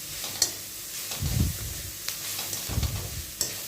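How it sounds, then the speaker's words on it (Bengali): Chopped capsicum for chicken momo filling stirred in a pan, with soft sizzling and a few scraping strokes and light clicks of the spatula, fairly quiet and close. "ক্যাপসিকামটাকে দিয়েও একটু ভালো করে নেড়ে নিচ্ছি।"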